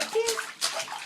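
A small child named Pierce splashes in bathtub water, with short bursts of sloshing and splatter close by, mixed with brief vocal sounds.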